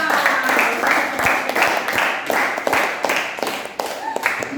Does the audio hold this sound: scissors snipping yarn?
no